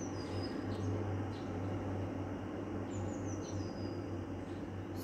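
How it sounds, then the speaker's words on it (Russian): Faint, high bird chirps and short whistled calls come through over a constant low city hum and rumble. "Сквозь шум городской все равно слышно пение птиц."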